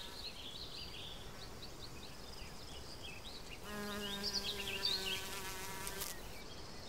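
Insects buzzing in a summer field, a steady close hum with a louder droning buzz rising midway, under faint outdoor ambience.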